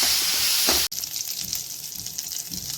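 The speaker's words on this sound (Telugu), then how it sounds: "పచ్చిమిర్చి ఇవి వేసుకొని ఈ రెండు నూనెలో మంచిగా ఫ్రై చేసుకోవాలి." Green chillies and curry leaves frying in oil for a cucumber chutney, a loud continuous sizzle that cuts off abruptly and resumes as a softer, steady crackling hiss.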